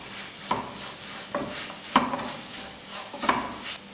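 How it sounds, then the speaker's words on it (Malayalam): Chilli powder is stirred in a pan over low flame for a Kerala-style prawn and bilimbi pickle: a gentle background sizzle broken by four scraping spoon strokes against the pan. "ഇനി ഇതിൻ്റെ പച്ച ചുവന്ന് മാറുന്നത് വരെ ഇതൊന്ന് മിക്സ് ചെയ്ത് കൊടുക്കണം"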